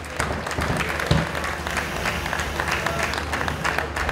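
Crowd applause at an outdoor student festival, a fairly faint, even wash of many hands clapping at a distance, continuing without a break.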